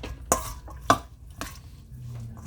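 Lime juice is stirred into duck larb, giving a few sharp utensil clinks against the bowl followed by soft mixing and scraping sounds, near and alone.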